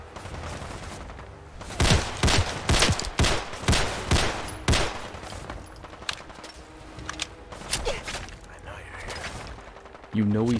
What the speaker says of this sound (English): he's probably the 8-foot-tall orc shooting at us